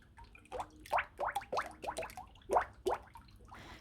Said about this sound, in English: you need this exact bubbling sound in order to make good sheets of woven fibers